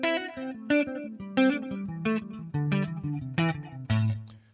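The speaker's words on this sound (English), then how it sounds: "you put some echo on that, you put some delay, you get some trails on that." Electric guitar plays a pentatonic lick of short, separate phrases, each note trailed by echo and delay repeats, with a slightly distorted tone, close and alone.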